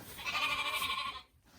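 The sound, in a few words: sheep bleating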